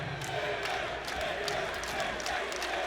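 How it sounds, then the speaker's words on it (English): A college basketball crowd makes a sustained roar of yelling and noise to rattle a free-throw shooter, a dense steady din from a packed arena. "crowd trying to affect Mr. Woodward"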